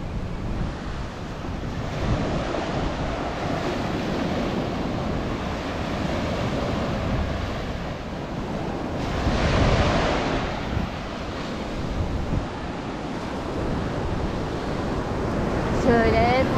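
Ocean surf washes steadily onto a quiet Colombian beach in Tayrona Park, a continuous broadband roar with gentle swells and wind buffeting the microphone, no voices.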